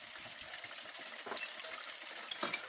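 Leftover shrimp frying in a pan, a steady soft sizzle with occasional brief scrapes and stirring clatter, close and moderate in level, no talk.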